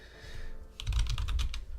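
Fingers tap out a quick burst of about eight keystrokes on a computer keyboard, close and crisp, after a quieter moment of faint background noise.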